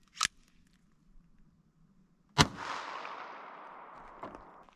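A single unsuppressed .22 shot cracks sharply and close by, then its echo fades across open ground, after an earlier short click; no voices.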